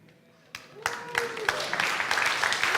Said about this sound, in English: You weren't actually supposed to clap.